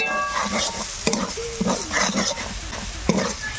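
Spices with chopped tomato, salt and a little dried chili powder sizzle and get stirred in a pan, scraping strokes and sharp spatula knocks over a steady fry, with faint background noises.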